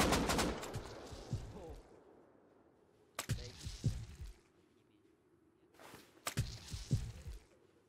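Rapid P2 pistol fire sprayed in the game Rust, three separate bursts of sharp cracking shots with gaps of quiet between them, loud and close.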